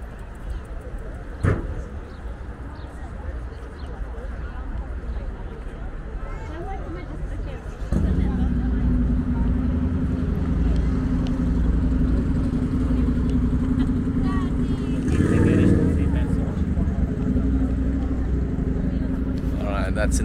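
Cars pass along a road in Italy on a fine day, a steady traffic rumble that swells louder partway through and continues, with a person talking over it.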